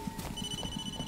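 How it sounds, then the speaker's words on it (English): A phone ringing in the horror game Blair Witch, a short steady electronic tone running under soft rhythmic thumping, with no voices. "Phone call."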